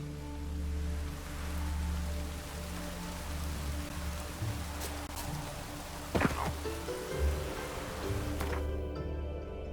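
Rain in The Witcher 3 falls as a steady hiss across the whole stretch, with a low rumbling game ambience underneath and a brief sharper tonal accent near the middle; no one speaks.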